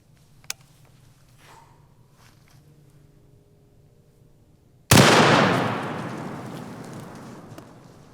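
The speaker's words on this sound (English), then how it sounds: "First up, we will shoot the Barnes Vortex 280 grain blue tip." A single loud, close .338 Lapua rifle shot firing a Barnes Vortex 280 grain blue-tip bullet, a sharp blast with a long rolling decay after several seconds of near quiet.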